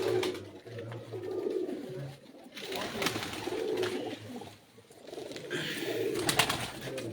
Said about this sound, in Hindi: ये आमिर के परवाजी कबूतर हैं जी